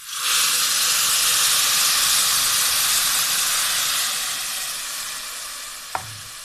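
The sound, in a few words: jaggery syrup poured onto fried vermicelli, sizzling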